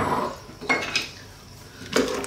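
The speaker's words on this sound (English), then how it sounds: "We're gonna give that a stir." A utensil stirs homemade chicken soup with zucchini in a pot, giving a few soft scrapes and light clinks against the pot, close and quiet, with no talking.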